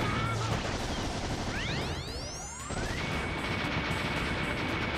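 Boss explosion animation from the Mega Man X6 video game: rising, whooshing synthetic sweeps climb over a dense bed of crackling blasts, with a brief dip and then continued rumbling bursts.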